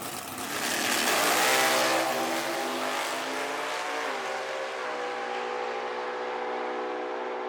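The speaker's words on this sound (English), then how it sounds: "This is the world's quickest small block Ford ever made." A small block Ford race car engine roars loudly, swelling over the first two seconds and then settling into a steady, high-pitched, sustained drone close by.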